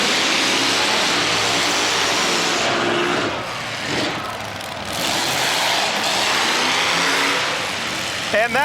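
Race cars circling a short oval track at a night of racing, a continuous loud engine roar that swells and fades as cars pass, with an announcer talking over it.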